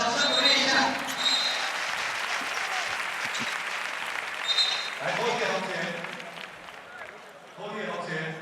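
Capacity crowd at a professional basketball game between the Taipei Fubon Braves and Macau Black Bears applauding steadily throughout, with a commentator talking over the clapping.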